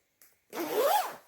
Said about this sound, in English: So I'm just going to show you guys a quick demo of the zipper here.